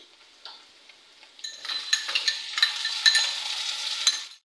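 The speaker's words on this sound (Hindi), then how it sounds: "अब मैं इसमें लहसुन अदरक का पेस्ट ऐड कर दूंगी।" Onions frying in oil with garlic-ginger paste just added, a steady soft sizzle punctuated by repeated sharp clicks of a spoon stirring against the pan, close up with no voices.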